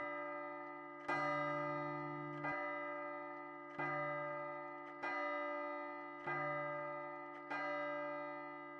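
Church bell tolling in the horror video game Unreal PT, six resonant strikes about every 1.3 seconds, each ringing out and decaying before the next, with no talking.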